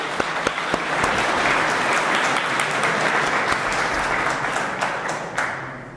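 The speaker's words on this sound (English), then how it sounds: "we should all give them a big applause, shouldn't we?" A conference audience at a talk on GWT and JavaScript breaks into dense, sustained applause. It is loud and full for about six seconds, then begins to thin and fade at the end.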